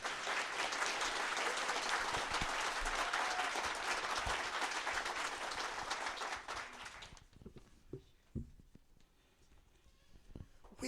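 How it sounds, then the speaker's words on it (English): A keynote audience at the 2019 When Words Collide festival claps in a loud, dense round of applause for about seven seconds before it abruptly dies away into scattered claps and room noise. "So let's get a big, heavy round of applause."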